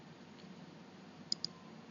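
Two quick, crisp computer mouse clicks, close together and near, over faint low room hum while confirming a dimension style dialog in AutoCAD.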